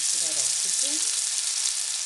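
Chicken tikka pieces frying in hot oil in a pan, a steady, bright sizzle throughout with a brief voice murmuring underneath early on.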